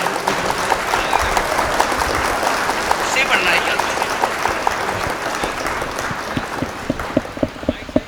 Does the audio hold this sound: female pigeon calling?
no